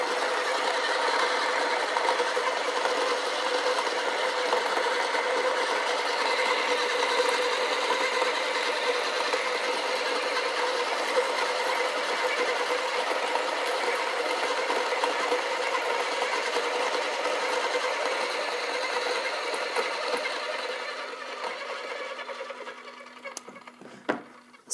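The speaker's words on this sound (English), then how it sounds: "now let's go ahead and put this into espresso. 600 RPM, lowest RPM, espresso grind." An Acaia Orbit coffee grinder runs at its lowest 600 RPM setting, grinding espresso in one long steady whir that holds for about twenty seconds, then tapers off and stops, heard close and without talk.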